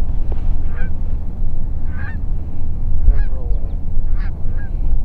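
A flock of geese honking during an early-season goose hunt, a steady chorus of overlapping calls over a constant low rumble of wind or motion, with no voices.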